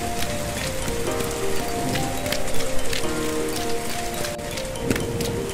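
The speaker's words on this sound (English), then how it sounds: "it started to rain!" Rain pours in an animated story as a dense, steady, fairly loud hiss of falling drops with a faint tonal background, and no voices.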